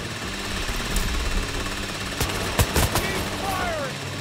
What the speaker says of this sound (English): Drill open the vault door and secure the loot.